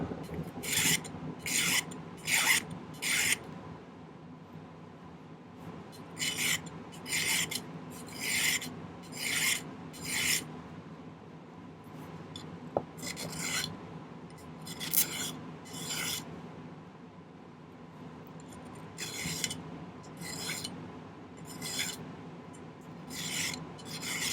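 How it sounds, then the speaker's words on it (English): A metal hand file rasps the bottom of a handmade gothic garnet ring flat, in bursts of quick, bright, rhythmic strokes separated by short pauses and repeated over about twenty-four seconds. "I usually file the bottom flat."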